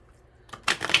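A puppy-themed card deck is shuffled by hand during a daily astrology card reading, a short, close papery riffle and slap that starts faint and swells to a crisp burst at the end.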